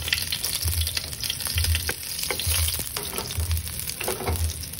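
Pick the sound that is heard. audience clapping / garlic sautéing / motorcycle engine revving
garlic sautéing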